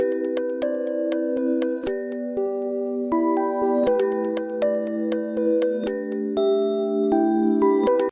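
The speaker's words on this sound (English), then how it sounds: "I added this like extra bell for like call and response." A synth bell plays a melody with ringing, evenly spaced notes in a call-and-response pattern, layered with a delay effect, loud and sustained throughout with no voices.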